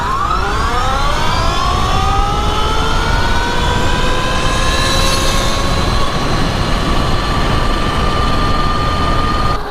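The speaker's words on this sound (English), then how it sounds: "I'm going to test my 1/8 mile track time on the 72 volt setup I'm currently running" Sur-Ron electric dirt bike on a 72 volt setup with 12-inch wheels and a 62 tooth sprocket accelerating, a steady whine rising in pitch over loud constant wind and road rush.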